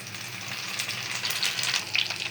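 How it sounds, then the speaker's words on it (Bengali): Sliced onions frying in a pan until golden brown for a fish-head and mung dal dish, a continuous moderate sizzle and crackle with no talking. "আর এইদিকে আমি পেঁয়াজটা বেরেস্তা করে নিচ্ছি।"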